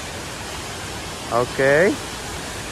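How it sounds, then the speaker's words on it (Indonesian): Steady, even rush of the indoor waterfall at Jewel Changi Airport fills the whole clip, with a voice briefly speaking over it midway. "Mari kita lihat air terjun yang ada di Jewel."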